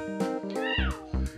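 A cartoon cat in the Toca Boca cooking game gives several short, bright meows in quick succession, close and clear, each lasting a fraction of a second.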